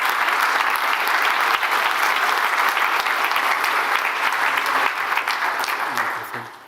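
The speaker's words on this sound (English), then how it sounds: "Give them a welcoming clap." Loud, dense audience applause at a cardiac arrest symposium as guests come up to the stage, a sustained roar of clapping that tapers off near the end.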